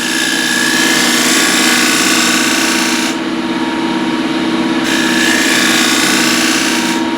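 Woodturning refiner smoothing wood on a lathe, a loud steady whirring hum with a harsh scraping edge that eases briefly in the middle, continuous and close, with no talk.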